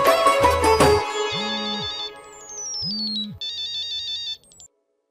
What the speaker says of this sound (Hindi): अरे दीपाली, तुमने मुझे फोन की?